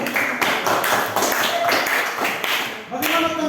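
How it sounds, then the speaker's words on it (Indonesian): Classroom applause during a university group-learning session: a room of students claps in dense, uneven patter throughout, with voices and chatter mixed underneath and a brief lull near the end before the clapping continues. "Yang kita berikut tepuk tangan dulu."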